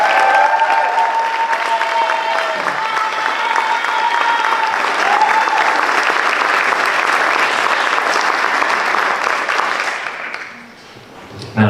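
A concert audience at a school band event gives loud, sustained applause with cheering for two scholarship students called to the stage. The clapping carries for about ten seconds before dropping away near the end.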